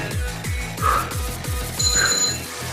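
A workout interval timer rings during a HIIT cardio session, a bright electronic tone heard briefly over a steady thumping music beat, with no one talking.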